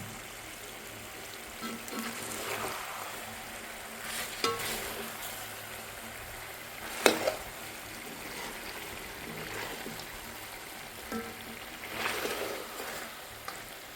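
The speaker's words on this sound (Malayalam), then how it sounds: "ഇനി നമ്മൾ ആദ്യം ഒഴിച്ച എണ്ണയ്ക്കകത്ത് കിടന്ന് നമ്മുടെ ചിക്കൻ നന്നായിട്ടൊന്ന് മുരിഞ്ഞ് വന്നോളും." Chicken frying in oil in a pan, a steady sizzle with occasional louder pops and stirring noises, close and alone.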